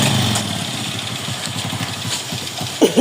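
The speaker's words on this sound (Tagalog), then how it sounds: "Ayun yung motor ni Igor. Ay, naka-ready na sila." A motorcycle engine idles nearby with a steady, rapid putter, loud and continuous, ending with a brief louder burst near the end.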